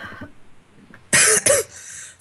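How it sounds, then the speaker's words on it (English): A person who is sick with a cough gives two short, harsh coughs in quick succession, close and loud, after a brief moment of quiet murmuring. "I just have a cough"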